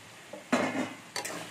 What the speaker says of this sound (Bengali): আমি এবার পটল আলুর নাড়াটা দিয়ে দিচ্ছি